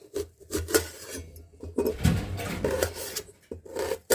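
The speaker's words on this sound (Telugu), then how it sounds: "ఆనియన్స్ కూడా కట్ చేసుకుందాం" Onions are cut into medium pieces with a kitchen knife at home. Soft, close scraping and chopping strokes come in quick irregular bursts, faint and with no voice over them.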